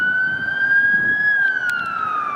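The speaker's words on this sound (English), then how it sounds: "There's a siren. And it's coming this way." A fire engine siren wails loudly on a city street, a steady high tone rising slightly and then falling as the truck draws near and passes.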